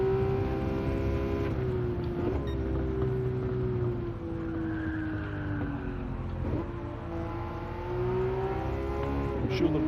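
Race car engine in Gran Turismo 7 driven in cockpit view, a loud sustained drone with revs climbing and dropping through shifts, steady for the whole stretch.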